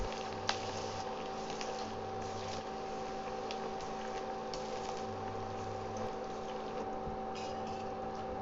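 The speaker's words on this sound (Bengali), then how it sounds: "তেলে এক এক করে ছেড়ে দিচ্ছি মাখিয়ে রাখা মাছগুলো" Marinated rohu fish pieces fry in refined oil in a kadai, giving a steady, even sizzling hiss that continues unbroken throughout, with no talking.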